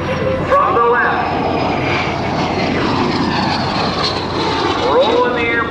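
An aerobatic propeller airplane performs at the 2006 NAS Oceana Airshow, its engine droning steadily at a distance with a slowly shifting pitch as it maneuvers, while an announcer talks over it.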